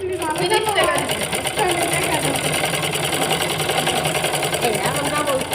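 A nearby sewing machine hums steadily as it runs a double line of stitching to join a three-piece sleeve, while a person talks over the continuous mechanical whir.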